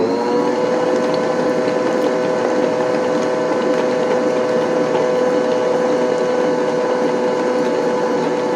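Electric mixer beating cake batter made from cake mix, eggs and buttermilk for an Italian cream cake, a loud continuous whirring motor hum with a faint rattling texture, steady throughout.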